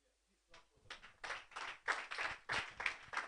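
Audience clapping at a school science fair competition, starting sparse and quickly building into steady, close, irregular applause from a small crowd.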